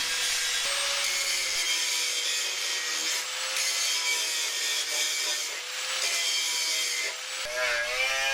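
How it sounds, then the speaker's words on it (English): A grinding disc flattens the remains of old spot welds on the front lower corner panel of a Talbot Express camper van, a steady, loud, harsh metallic grinding that continues without a break. "I used a grinding disc to flatten down the remains of the old spot welds"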